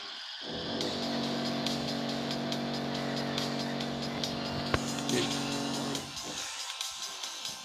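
Arcade-style car from the mobile game Smashy Road: Wanted 2 drives hard and drifts wide, a steady loud engine drone with layered tire noise and small impacts, fading near the end while a person talks over it.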